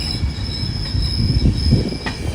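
Andhra Pradesh Sampark Kranti SF Express running between Tirupati and Kacheguda, with a steady low rumble of wheels on rail and faint squeal, heard from on board, continuous and fairly loud with no talk.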